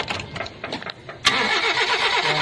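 A Toyota Corolla engine cranks after a short stretch of rustling, then catches suddenly and settles into a loud, steady idle close by.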